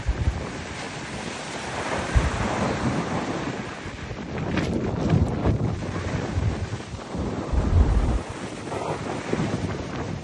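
Blizzard wind buffets the microphone over a stormy sea in the Murmansk region. Gusting roar and crashing surf rise and fall continuously, loud and close, with no voices.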